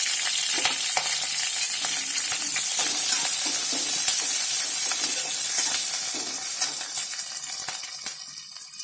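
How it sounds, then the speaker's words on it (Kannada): Onion, garlic and ginger frying in a pan for avarekalu kurma, a steady close sizzle and hiss with faint stirring clicks throughout, no voices. "ಅದ್ರ ಜೊತೆಗೆ ಈರುಳ್ಳಿ ಕೂಡ ಹಾಕ್ತಾ ಇದ್ದೀನಿ, ಬೆಳ್ಳುಳ್ಳಿ ಕೂಡ ಇವಾಗಲೇ ಹಾಕ್ತೀನಿ."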